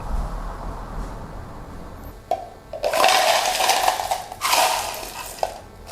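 Hot, strong brewed coffee poured from a French press into a measuring cup: after a light clink, two loud close bursts of rushing liquid with a brief pause between, no talk.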